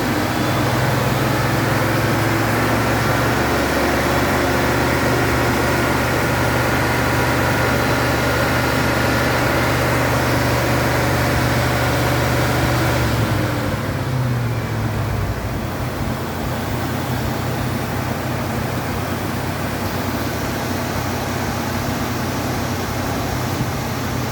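A 1986 Mustang with a swapped 302 V8 runs on a dyno during tuning, its idle a steady, loud hum beneath broad background noise, with the revs stepping down noticeably about halfway through.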